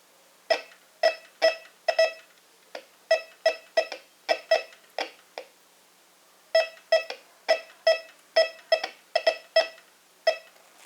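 A Bounty Hunter Tracker IV metal detector sweeps over a silver chain, giving crisp, clean beeps in quick bursts of several tones, a pause, then another run of steady beeps, alone and close.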